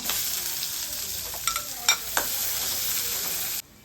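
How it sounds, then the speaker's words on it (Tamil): Curry leaves and onions sauté for urad dal sundal in a hot pan, a close, bright sizzle with a few spatula knocks and scrapes before the sound cuts off abruptly. "கருவேப்பிலை ஒரு கொத்து போட்டுக்கலாங்க. வெங்காயம் போட்டுக்கலாங்க."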